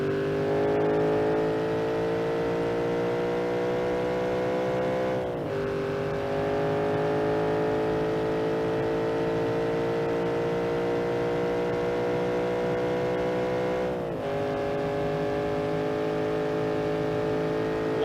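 A track car in the driving game BeamNG.drive accelerates down a straight, its engine note climbing steadily loud and close, dropping sharply twice at gear shifts before rising again.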